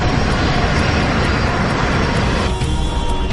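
Crossair Flight 3597 airliner on final approach, heard from inside as a steady, loud, continuous engine and airflow roar that holds evenly throughout with no break.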